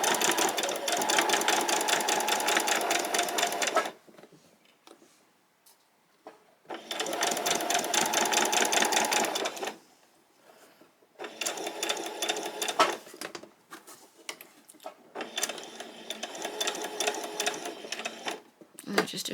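A sewing machine stitches a pleated top in four close, steady bursts separated by short pauses, ending with a few back stitches.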